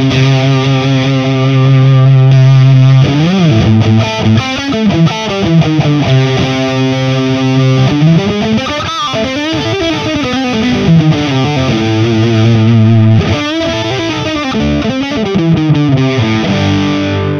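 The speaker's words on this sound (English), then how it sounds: "And here's my dirt channel from the Laney VH100R." Distorted electric guitar from the dirt channel of a Laney VH100R amplifier, run through an Origin Effects Cali76 compressor, plays sustained, thick chords and riffs, loud and close, with no talking.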